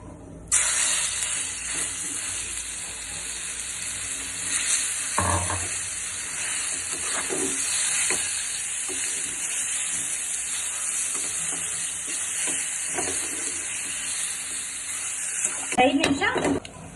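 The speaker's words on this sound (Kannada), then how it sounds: "ಸ್ವಲ್ಪ ಫ್ರೈ ಆಗಬೇಕು." Vermicelli frying in oil in a pan for chicken shavige bath gives a steady, close hiss and sizzle, broken by a few stirring scrapes and clatters, louder near the end.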